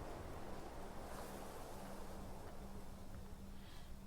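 Ocean waves wash steadily in the video game Creativerse, a soft, continuous rushing surf that stays faint and even throughout, with no talk.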